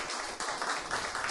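Church congregation applauding an elder, a steady wash of many hands clapping at moderate loudness across the whole short stretch, no voices over it.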